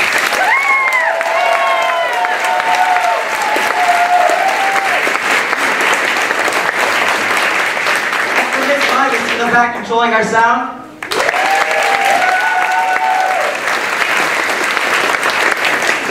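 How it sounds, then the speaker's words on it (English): At a high school fall cabaret, the audience applauds the band in loud, sustained clapping, with a voice speaking over it and a short dip in the middle before the clapping swells again. "can we get a round of applause for the band"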